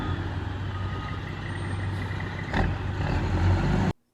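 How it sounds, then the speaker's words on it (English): A dump truck backs in to load dirt for backyard fill, its diesel engine rumbling loud and close with a steady drone and a brief air-brake hiss near the end before the sound cuts off. "truck number 3 backing in, loading up with dirt here."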